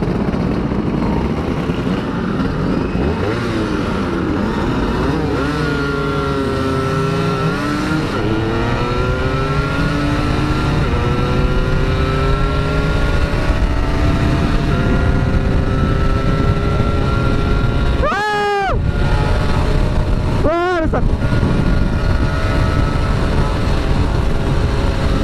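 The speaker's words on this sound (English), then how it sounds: "Gila, itu kenceng banget motor." Yamaha F1ZR two-stroke motorcycle from 2002 racing against tuned bikes, engines rising and whining at speed, with fast passing vehicles sweeping by near the end over constant road noise.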